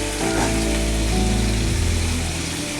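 Sweet pumpkin pieces fry with spices in a pan, a loud, dense, continuous sizzle heard close up, with a low hum underneath and no voices.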